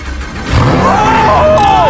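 A Lamborghini engine catches and starts after a quiet moment, then settles into a loud, steady running note with a rising whine, close by, while people react in the background.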